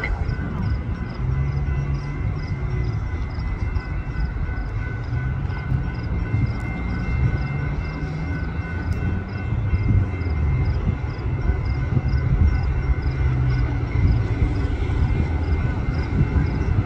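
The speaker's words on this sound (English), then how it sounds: "UP Northwest Main Line train number 639 to Harvard is now arriving" A Metra UP Northwest Line commuter train bound for Harvard rolls into Barrington station in the evening rush, a loud, steady rumble building slightly, with a faint repeating chime above it.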